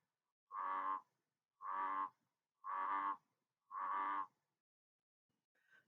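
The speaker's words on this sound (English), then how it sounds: "We're going to listen to a bullfrog croak" Four evenly spaced deep croaks from a bullfrog at a pond, each about half a second long and separated by short silences, fairly quiet, followed by a faint trailing sound.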